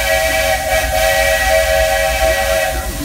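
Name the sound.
steam hissing from the Lilly Belle steam locomotive's cylinder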